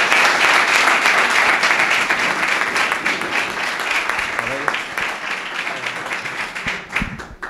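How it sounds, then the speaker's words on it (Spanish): An audience at a Vox Talavera event gives loud sustained applause for someone speaker, the dense clapping gradually easing with some voices mingling in as it dies down. "Por lo que pido un fuerte aplauso para ella."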